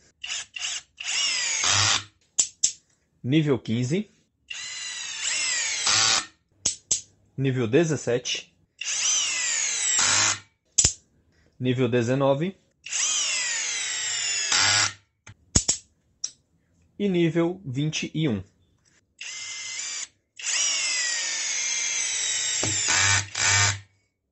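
A CHIGO cordless screwdriver with torque control, set to level 13, whirs in repeated bursts as the trigger is squeezed and released, its pitch rising and falling with speed, loud and close, brief pauses between runs.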